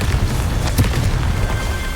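A Confringo blasting spell explodes in Hogwarts Legacy, a single loud boom within a dense rumbling game soundscape, brief and close.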